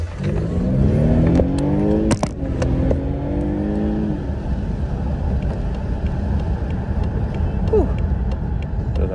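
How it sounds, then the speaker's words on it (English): A big rig truck bearing down fast from behind on a highway, heard from inside a car as a loud rising engine drone with shifting tones and clatter, then steady road roar. "There's a big old big rig flying up on me."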